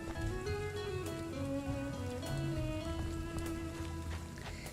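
Rain falling in the Ranch of Rivershine farming game, a steady dense patter with scattered drop hits over layered game music and ambience, continuous and moderately loud throughout.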